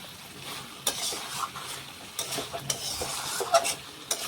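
Mutton sautéing in a pan with light spices, stirred with a utensil that scrapes and clinks against the metal at irregular moments over a steady, soft sizzle; no talking.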